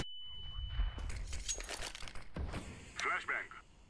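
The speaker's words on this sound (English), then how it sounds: "Throwing flashbang." A flashbang grenade goes off in CS:GO with a sharp shattering crack and a smear of bright, crackly noise, followed by scattered thumps and gameplay clatter.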